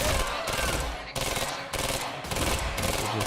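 Sustained automatic gunfire in Quantum Break, loud and close, with rapid shots pulsing in several dense bursts that barely pause across the whole stretch.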